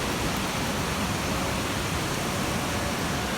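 A river rushes steadily past an outdoor soaking pool on rocks, a constant broadband wash of flowing water with no pauses or voices.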